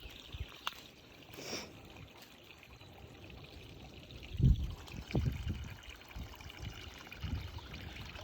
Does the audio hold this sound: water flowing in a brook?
yes